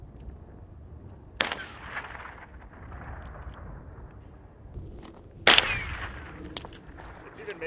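Two sharp gunshots ring out at old cans in open ground, one early and a louder, closer crack later, with a fainter pop near the end over steady outdoor background noise.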